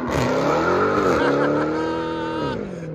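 A 2021 Dodge Charger Hellcat's supercharged 6.2L HEMI V8 with a muffler delete revs loudly up and back down in a sustained, rising-and-falling howl close by, with no talking.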